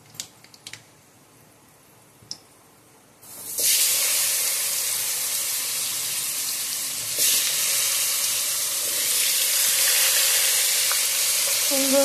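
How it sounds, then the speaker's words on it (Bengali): Green chilies and black cumin seeds hit hot oil in a pan after four pieces of fish have been fried for a Bengali fish curry, setting off a loud, sustained sizzle that swells again midway, preceded by a few quiet kitchen clinks. "এইবারে আমি একটু কাঁচা লঙ্কা কালো জিরে ফোড়ন দেবো।"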